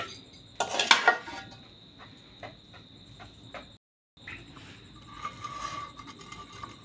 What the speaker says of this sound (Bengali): এখন শিলপাটা ভর্তা করে নেব।